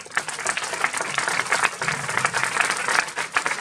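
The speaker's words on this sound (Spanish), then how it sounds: "un fuerte aplauso para la doctoranda licenciada Valeria Riccieri" Applause from a university audience at a doctoral thesis defense in psychology, greeting the candidate; dense, steady clapping from many hands fills the room throughout, fairly close.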